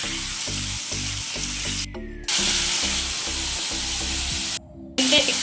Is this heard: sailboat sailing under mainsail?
no